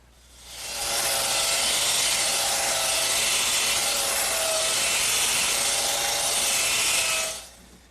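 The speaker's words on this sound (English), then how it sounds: "I'll just saw these off with my handsaw" Handsaw cutting off wooden dowels flush on a trestle table top, a steady continuous rasping stroke held for about six seconds, close and fairly loud, with no talking.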